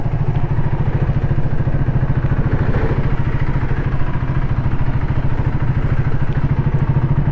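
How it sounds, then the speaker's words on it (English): The single-cylinder engine of a 2025 KTM 390 Adventure motorcycle runs with a steady, loud, rapid thumping pulse and a mechanical clatter, close to the microphone and without any talking. "Sweet sounding motorcycle from a single cylinder point of view."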